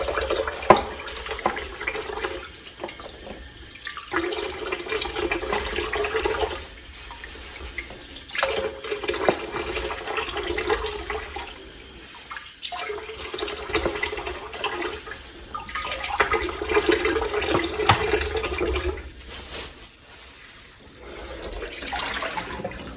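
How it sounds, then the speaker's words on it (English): Tap water runs over raw chicken thighs in a kitchen sink, a steady close splashing rush in several long bursts with short pauses between them. "So I am going to rinse it off."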